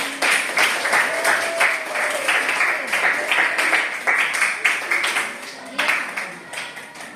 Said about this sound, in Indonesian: Silakan kita beri aplaus.